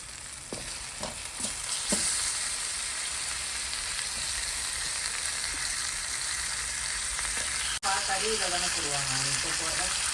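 Chicken fries in oil in a pan, producing a loud, steady sizzle with some stirring; faint voices sit underneath, and a watery, bubbling sound follows a brief break near the end.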